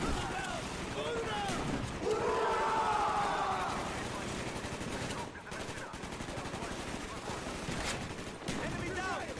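Heavy combat gunfire in Call of Duty: Black Ops, with machine-gun bursts and scattered shots rattling steadily at moderate distance while shouted voices carry over the fighting.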